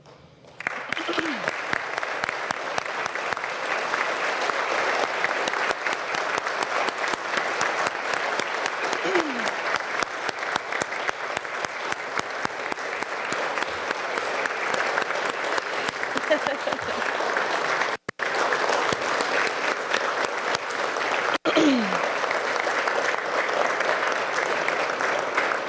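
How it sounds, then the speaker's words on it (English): Crowd at a Pikeville Medical Center press conference giving coal miners a long, steady round of applause, dense sustained clapping close by with brief dips, and occasional voices beneath it. "if you guys would stand and let us clap for you"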